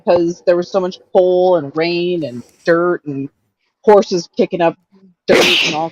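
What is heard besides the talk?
sneeze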